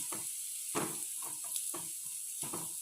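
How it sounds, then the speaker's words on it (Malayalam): Pickle ingredients sautéing in oil until their moisture cooks off, a soft faint sizzle with a thin high hiss and a few quiet scraping stirs, close, no voices. "അതിൻ്റെ വെള്ളമയം എവിടെയെങ്കിലും ഉണ്ടെച്ചാൽ അത് പോകുന്നവരെ നമ്മളൊന്ന് വഴറ്റി കൊടുക്കാം"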